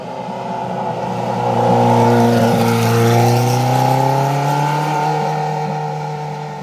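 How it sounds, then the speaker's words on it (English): A Porsche 918 Spyder drives past, its loud engine note rising and swelling with a steady pitch climb as it nears, then easing off slightly while staying strong and close, with no talking. "Porsche 918 Spyder. First time seen driven."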